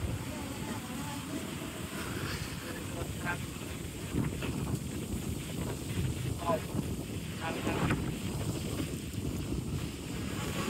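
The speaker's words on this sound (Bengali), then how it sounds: "অনেক বাতাস, আজকে আর উড়াতে চাচ্ছি না ভাই" Strong wind buffets the microphone of a DJI Mini 4 Pro drone, producing a continuous low rumbling roar with gusty fluctuations throughout and no pause.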